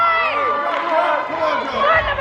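Crowd at a bodybuilding competition cheering and shouting, dense layered voices and whoops throughout with a burst of louder noise near the end.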